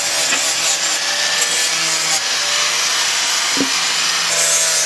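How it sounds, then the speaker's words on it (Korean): An automatic machine scrubbing oil drums inside a shop in an oil-seller alley runs continuously with a loud, steady rubbing and grinding wash, marked by a few sharp knocks, and no voices are heard. "통기름 닦는 자동 기계예요."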